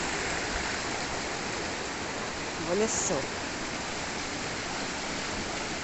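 Water pours down the rocks of a waterfall into a river, a steady broadband rush that fills the whole clip, with a brief voice speaking over it midway.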